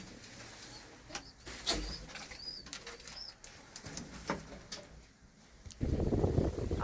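Kept pigeons, a soldier's pet flock let out of their loft, give soft coos and wing flutters among scattered chirps, with a louder rustling burst near the end.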